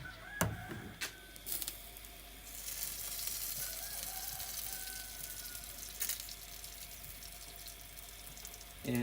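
Streaky bacon sizzles in a smoker, a steady close crackling hiss with a few sharp pops and clicks, heard alone without talk.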